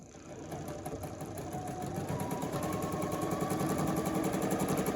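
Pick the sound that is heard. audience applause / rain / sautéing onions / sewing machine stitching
sewing machine stitching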